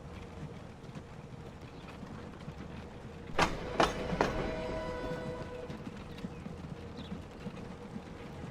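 A train in a city-building game set in Jamaica rattles past, with a couple of sharp clacks followed by a rolling, fading rumble over faint background noise.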